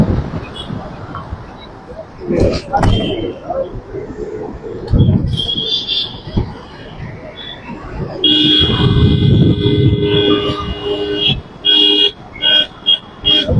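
Road traffic during a vehicle rally, with engines rumbling and several horns tooting in short bursts and longer sustained blasts, loud and close, with voices talking at times.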